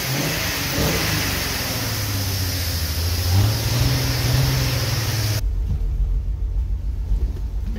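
A Jeep Cherokee XJ engine running while driving: a loud, close, steady rumbling drone whose pitch rises and falls with the throttle, then shifts to a deeper, muffled roar.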